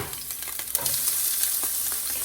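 Onions and jalapeno sizzle steadily in a hot pan for chicken fried rice, a close, even frying hiss with a few light stirring scrapes and no voices.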